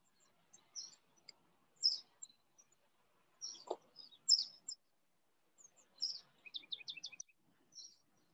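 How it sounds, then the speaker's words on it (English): House wrens on barbed wire in a town near the Panama Canal give a series of short, bright chirps and scratchy calls, ending in a quick rattling trill, moderately near with quiet pauses between phrases. "House wrens, I think."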